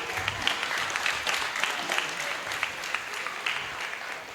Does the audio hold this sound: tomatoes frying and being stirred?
no